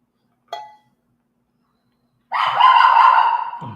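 Indoor dog in a home makes one short, sharp bark, then after a pause lets out a loud, sustained bark-howl lasting over a second, heard close and alone.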